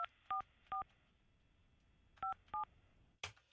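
A phone dials the police chief with four short, clear touch-tone beeps in two pairs, quiet and isolated, followed by a brief click at the end.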